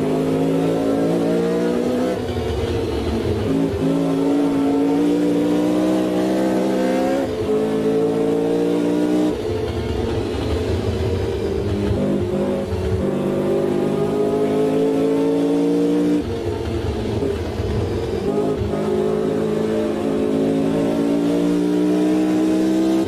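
A Brabham race car lapping Bathurst, its engine screaming up through the revs, then dropping sharply with each gear change at a few regular points, loud and continuous with no talk.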